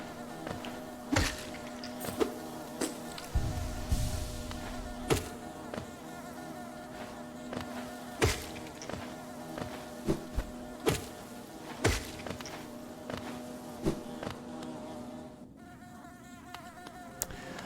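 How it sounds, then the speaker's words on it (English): Bees buzz in the video game Hollow Knight, a steady droning hum that runs throughout, broken by repeated sharp thumps and hits scattered at irregular intervals. "Damn it, bees."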